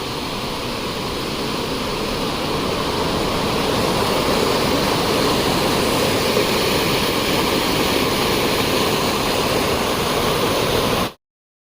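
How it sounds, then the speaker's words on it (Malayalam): A waterfall seen along the route to Tambdi Surla Mahadev temple in Goa, a loud, steady, full-bodied rush of falling water that holds constant for the whole stretch, with no voices over it. "നോക്കിയത് വെള്ളച്ചാട്ടം."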